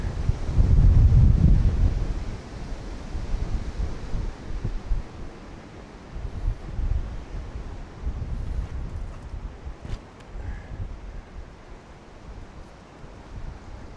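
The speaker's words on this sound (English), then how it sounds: "The wind has really got up, so hopefully you can hear me okay." Strong winter wind outdoors buffeting the microphone, heavy low rumbling gusts that surge loudest at the start and keep rolling in uneven waves of roar.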